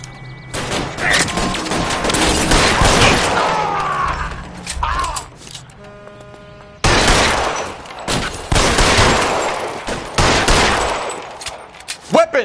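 Gunfire in L.A. Noire erupts in loud, rapid bursts of shots and booms that stop for a moment near the middle and then start again, close and intense, with little else audible.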